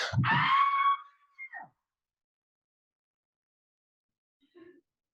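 A person imitates a child's shrill scream in one loud burst, followed by a brief strained tail and a faint sound after a pause.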